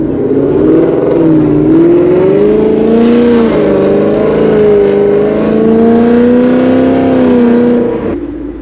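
An S550 Mustang GT running E85 through loud catless headers revs hard and close, its pitch climbing and wavering in sustained pulls before dropping off at the end.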